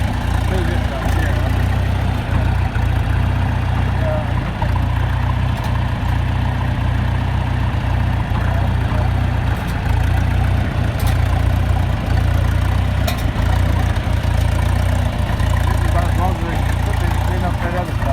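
An old John Deere 2020 tractor engine runs steadily through the whole stretch, a loud continuous low-pitched drone with a throbbing idle character and no pauses while mowing weeds in a pasture near a road with an old bush hog.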